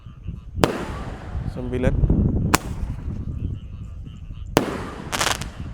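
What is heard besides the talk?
roman candle firework shots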